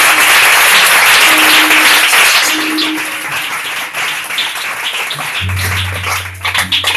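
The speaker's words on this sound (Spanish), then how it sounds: "Dale un fuerte aplauso al Señor." A church congregation claps loudly and steadily during a sermon. The applause is close and thick, then thins and fades as a low sustained tone enters near the end.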